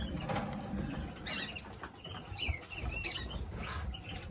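Satinette pigeons flap their wings in a loft during breeding-season pairing, giving quick fluttering bursts and soft pattering close by with no voices.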